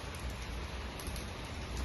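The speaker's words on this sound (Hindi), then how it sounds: "देखिए बाहर जो है बहुत ज़्यादा बारिश हो रही है" Heavy rain falls outside, a constant dense hiss of drops with no talking, steady and moderately faint across the short stretch.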